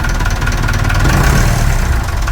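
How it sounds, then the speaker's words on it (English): A salvaged Perkins 4236 marine diesel from a sunken boat runs steadily, a loud close low rumble with throbbing vibration and no break. "Engine's still sweet."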